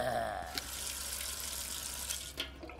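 Water runs steadily from a tap as a soft, continuous hiss, with a couple of faint clicks or splashes at the edges and no talking.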